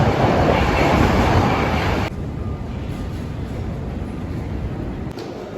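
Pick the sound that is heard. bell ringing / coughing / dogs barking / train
train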